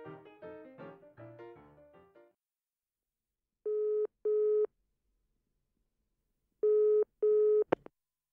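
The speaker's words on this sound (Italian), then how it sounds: "chiamò al telefono il suo detective" A telephone call sound effect in an Italian audio drama: a short run of plucked musical notes, then silence, then two pairs of steady electronic ringing tones ending with a sharp click.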